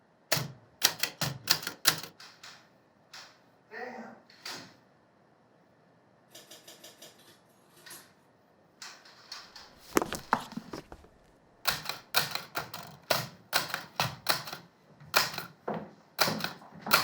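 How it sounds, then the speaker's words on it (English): Typewriter typing in bursts of sharp mechanical key strikes, quiet and close, with short pauses, a brief rattle and faster runs of clacks toward the end. "do you have a typewriter?"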